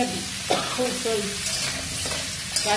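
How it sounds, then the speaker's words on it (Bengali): Hilsa fish head frying with leafy greens in a pan, a steady soft sizzle with a few stirring scrapes and clinks, close and moderately quiet, no talk. "এগুলো একটু ভালোভাবে ভেজে নেবো একসঙ্গে।"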